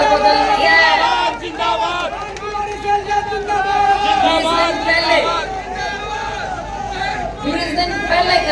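A large crowd at a political change rally in Jind chatters and shouts in a dense, steady babble of many voices, with louder bursts of cheering rising and falling throughout.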